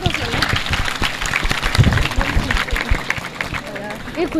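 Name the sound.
audience applause for the dignitaries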